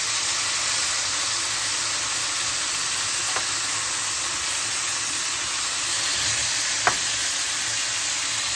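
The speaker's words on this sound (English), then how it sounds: "I'm just sauteing them up a little bit to get all the flavor out from it" Seasoned ingredients for Jamaican stew peas sauté in a pan, giving a steady, even sizzle and hiss close by, with a couple of faint utensil clicks and no talking.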